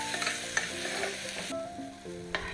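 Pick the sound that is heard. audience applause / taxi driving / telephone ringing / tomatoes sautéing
tomatoes sautéing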